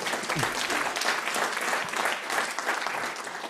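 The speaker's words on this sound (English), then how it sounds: "Round of applause." A crowd claps in steady, dense applause that holds at an even level from start to finish, with no voices standing out.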